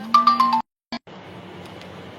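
A mobile phone rings with a short electronic ringtone melody from a repeated incoming call, a few quick tones that stop abruptly, then a brief blip over quiet room noise.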